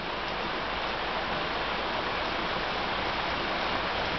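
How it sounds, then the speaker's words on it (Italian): Muddy floodwater surges as a torrent down a flooded street, via Ponte degli Incastri in Rome, during a nighttime cloudburst; a steady, dense rushing roar holds unbroken throughout with no voices. "la via che è un torrente di acqua melmosa"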